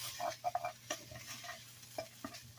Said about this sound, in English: now the meat that you just cooked, you're just going to put it in your baking dish